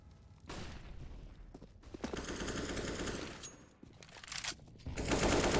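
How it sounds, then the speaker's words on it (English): Bursts of automatic rifle fire ring out during a Counter-Strike match on the Train map, sustained rattling volleys trading back and forth at mid distance, some bursts louder and nearer than others. "Shots across the map and nothing being found"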